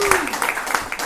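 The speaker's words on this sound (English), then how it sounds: "Give him a round of applause." A small crowd at a co-op reading in a greenhouse cider and plant shop claps for the host, a short patter of applause with a voice speaking over it.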